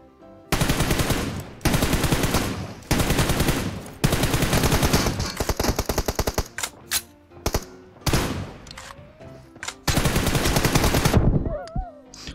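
Rapid automatic gunfire from an online team deathmatch shooter game, loud and close, coming in long sustained bursts broken by short gaps and a few single shots, with brief quiet stretches between volleys.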